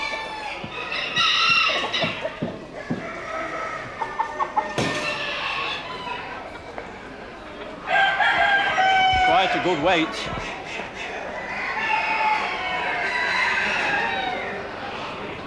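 Roosters and chickens at an agricultural poultry show, crowing and clucking continuously throughout with bursts of loud cackling, while someone speaks nearby under the bird calls.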